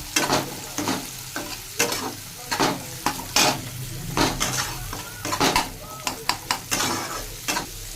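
Chickpeas sizzle and crackle in a hot pan, with repeated scraping stirs and occasional clinks of a utensil against the pan, close and fairly loud.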